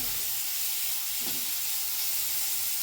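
Onion and garlic paste frying in a pan for a pumpkin, fish and mango sour curry, giving a steady, soft sizzle throughout with a brief stirring scrape near the middle.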